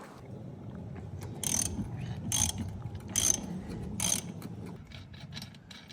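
A ratchet loosens a 19mm nut on the front wheel of a Cub Cadet mower in four quick bursts of rapid clicking, close and fairly quiet over a low background rumble.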